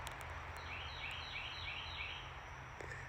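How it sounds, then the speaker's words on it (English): A bird in an African village gives a short series of repeated calls at a steady rhythm, moderately distant. Constant low hum and outdoor background noise sit beneath it. "listen to that bird."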